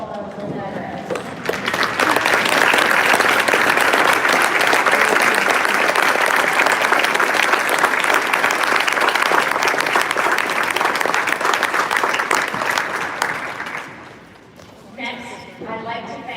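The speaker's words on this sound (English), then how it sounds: "please stand and let's give them a round of applause" Loud, sustained applause from a large audience honoring veterans at a Navy recruit graduation at Great Lakes, Chicago, rising quickly and holding steady for about twelve seconds before tapering into scattered claps.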